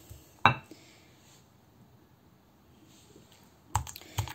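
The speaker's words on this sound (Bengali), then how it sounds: "মুরগির মাংসটাকে আমি এখন ছেঁচে নেব এই হামানদিস্তি দিয়ে" Chicken breast meat pounded with a mortar and pestle for kebabs gives a few sharp, close thuds: one strike early, then a quiet stretch, then two more knocks near the end.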